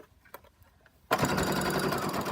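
A sewing machine backstitches a fabric scrunchie sewn from fat-quarter scraps, starting abruptly after a few faint taps and then running as a steady, loud, close mechanical whir to the end.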